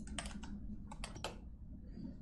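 Typing on a computer keyboard: two quick bursts of several close, crisp keystrokes each, separated by a short pause, over a low steady background hum with no talking.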